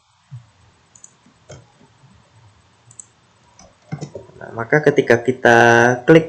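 A computer mouse clicks several times, sharp faint ticks spread out in a quiet room, followed by a person beginning to talk.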